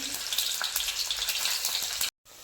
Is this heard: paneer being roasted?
yes